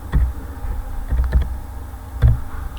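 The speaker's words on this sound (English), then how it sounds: "you just type on the search box, you just type Excel" Short bursts of keystrokes on a computer keyboard as a word is typed into a search box, a few clustered taps separated by brief pauses, close and clear with no talking.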